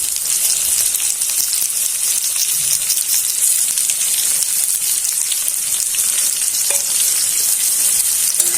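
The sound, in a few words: marinated fish added to fried onions, sizzling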